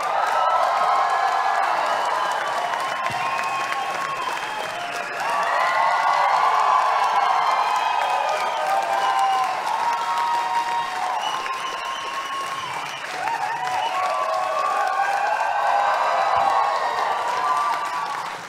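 A large theater audience at a Depeche Mode event in Berlin cheers and applauds in loud, dense waves with whoops, swelling and easing several times across the stretch.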